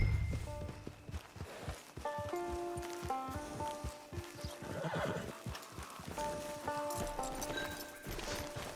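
A horse in the video game Red Dead Online whinnies and neighs while its hooves clip-clop at a walk near a camp, set against a steady game music bed.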